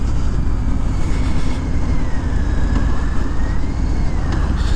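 A 2018 Harley-Davidson Breakout 115th Anniversary motorcycle riding along with a 240 rear tire, its engine a steady loud low rumble blended with wind and road noise, no talking.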